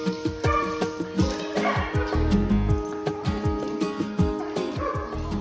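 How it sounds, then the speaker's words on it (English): A puppy barks in short, repeated yips with whimpering mixed in, an excited, steady series of close sounds with no talk. "And Jojo the pup couldn't wait to see Dad come home either"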